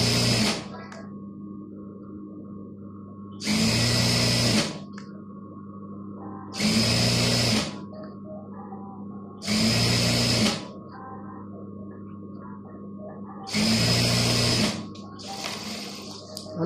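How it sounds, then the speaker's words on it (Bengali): An electric sewing machine stitching the seam of an Arab-style burqa, running in five loud, even bursts of a couple of seconds each, separated by quiet pauses with a low steady motor hum underneath. "একটা কাঁচা সেলাই মারে নিলাম তারপর আমি এখন এখন এখানে ডাবল সেলাই মারে দেবো"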